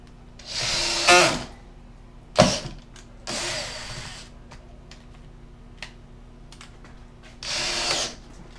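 A power drill drives screws into plywood siding on a micro camper RV build, in three separate whirring bursts with quiet gaps between them and no talk.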